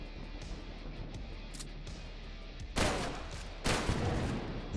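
Rifle shots ring out in the retro indie shooter TrenchPunk: a low ambient bed, then two loud, broad blasts about a second apart, each trailing off.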